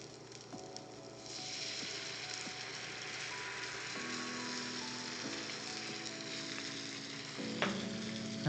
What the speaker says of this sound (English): you want to let it just sizzle for a little bit